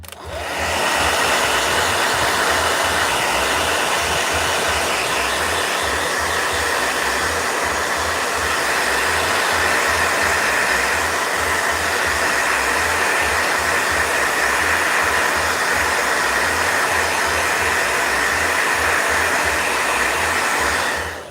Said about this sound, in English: I actually like blow dryer loud noise